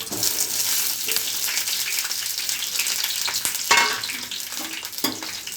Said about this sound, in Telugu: నేను కట్ చేసి పెట్టుకున్నాను పచ్చిమిర్చి, ఆనియన్, అవి ఆయిల్లో వేసుకుంటున్నాను.